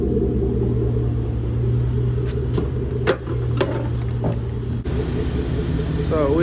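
A lifted Chevy Tahoe on 24x14 wheels with a heavy duty transmission cruises on a test drive, steady low engine and road rumble heard from inside the cabin, with occasional brief knocks.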